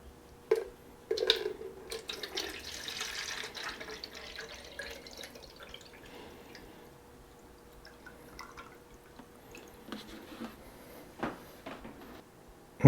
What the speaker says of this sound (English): And then we'll just fill this with water.